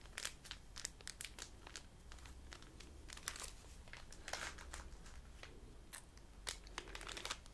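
Soft, close crinkling of a food packet from the USA, handled in quick irregular rustles and crackles, quiet and intimate with no talk over it.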